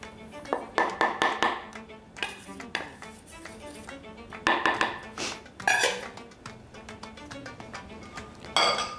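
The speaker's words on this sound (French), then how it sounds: "on va mélanger les amandes et le sucre glace" A spoon scraping and clinking against a bowl as ground almonds and icing sugar are stirred together for Tunisian almond cakes, irregular bursts of close, bright knocks and scrapes with quiet pauses between.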